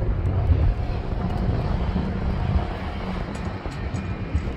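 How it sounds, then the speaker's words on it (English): Strong wind buffets the microphone beside a railway, a steady heavy roar that swells and eases slightly without pause. "Very windy."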